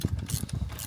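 Rapid metallic ratcheting from a spring compressor tightening down on a Vauxhall Corsa coil spring in a driveway, a close, steady run of clicks and mechanical clatter lasting about a second with no talk.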